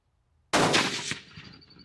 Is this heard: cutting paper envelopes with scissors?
no